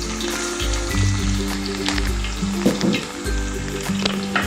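Crushed garlic and curry leaves crackle in hot coconut oil for a duck roast, a close bright sizzle with sharp spits and pops, over a low humming drone from a stove or fan.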